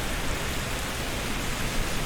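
Rain in Microsoft Flight Simulator at Plant City airport in Florida, a dense, even hiss of falling water filling the short stretch at steady loudness, with no voices.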